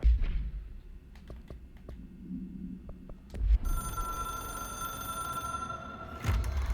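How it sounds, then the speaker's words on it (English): A phone rings in the video game Control, a hotline object of power that connects to the astral plane. The ring sounds in short bursts over a low ambient hum, then gives way to a sustained, brighter tone in the second half. "It is a phone."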